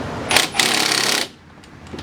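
An impact gun tightens front wheel bearing bolts on a 2005–2014 Jeep Grand Cherokee in a loud, close burst of hammering rattle lasting about a second, then cuts off to quiet shop ambience.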